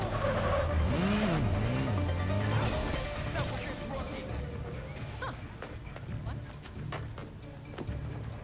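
A heavy motorbike in Gotham Knights revs and wobbles through swooping engine pitch bends, then skids with scraping, clattering impacts, while a voice talks over it.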